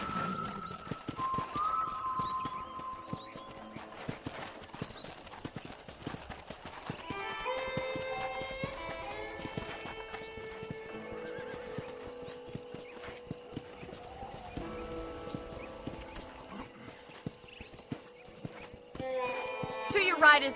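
Horse hooves clip-clop steadily in a Red Dead Redemption scene, with a brief whinny, soft music tones and someone speaking over the footsteps.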